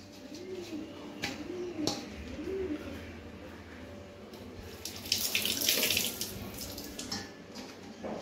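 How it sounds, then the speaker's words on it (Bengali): Tap water runs steadily into a sink while fruit is washed, with pigeons cooing nearby and a brief louder splash partway through. "এখন এগুলো ধুয়ে নেওয়া হচ্ছে।"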